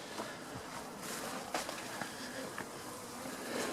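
Honeybees buzzing steadily around an open hive as frames are lifted out one by one during a summer honey harvest, a dense close hum with occasional soft knocks and handling sounds.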